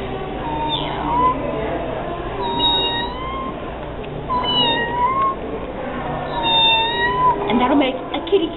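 A person imitates a cat, giving several drawn-out, rising and falling meows spaced across the stretch over a low background hum.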